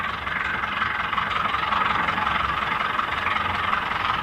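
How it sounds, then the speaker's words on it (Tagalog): A jeep engine converted to power a fishing boat, a Ford R5, runs steadily close by, a loud continuous rumbling drone with no pauses or talk. "Makina po yan ng jeep na kinonvert namin dito sa sa fishing boat."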